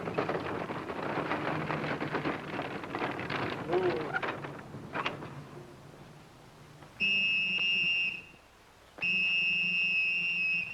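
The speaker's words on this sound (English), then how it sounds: "stop blowing that whistle" A shrill whistle blows twice in long, steady blasts, each lasting about a second or more, loud and close, after a stretch of rumbling background noise.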